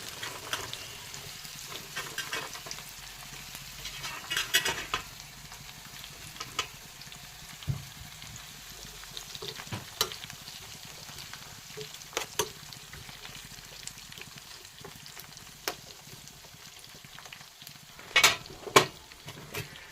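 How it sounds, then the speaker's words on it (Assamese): Boiled and sun-dried elephant apple (ou tenga) pieces fry quietly in oil with a soft, crackling sizzle. Scattered sharper pops and stirring clicks stand out now and then over about twenty seconds. "তাৰপিছত এতিয়া এনেদৰে তেলত ভাজি ল'ম।"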